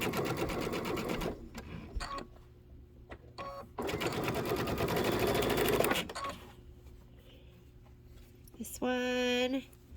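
A sewing machine stitches the outer border of a quilted table topper in several bursts of rapid mechanical whirring, separated by pauses and handling noises, with a brief high squeak near the end.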